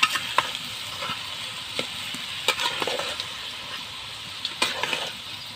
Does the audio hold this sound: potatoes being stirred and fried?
yes